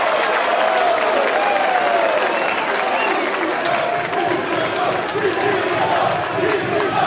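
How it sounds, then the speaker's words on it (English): A wrestling crowd at an indoor match applauds and cheers in a loud, continuous roar, with a commentator's voice running over it. "Crowd comes to life here,"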